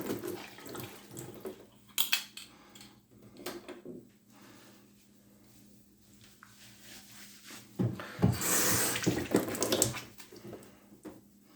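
Tap water runs into a bathroom sink as a face is rinsed after a shave, with soft intermittent splashing and a louder gush toward the end, heard close and alone.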